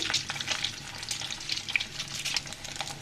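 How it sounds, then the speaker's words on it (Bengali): Eggs fry in a pan, producing a soft, fairly quiet, steady sizzle with intermittent light crackles and spits, with no voices. "আমি ডিমটাকে সুন্দর করে ভেজে নিচ্ছি"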